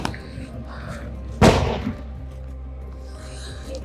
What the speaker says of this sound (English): You just heard the sound of another very, very loud explosion